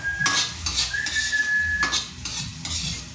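Sardines are stirred into miswa noodle soup with patola in a pot, with rhythmic scraping and clinking of a utensil against metal repeating several times under a faint whistling tone.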